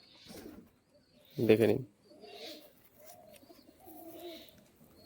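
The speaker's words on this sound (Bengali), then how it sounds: "বিরাট অ্যাগ্রেসিভ পায়রা, হাতে ধরে রাখা যাচ্ছে না" A Giribaj pigeon held in the hand gives a few low, throaty coos, one louder burst standing out near the middle, while someone talks close by.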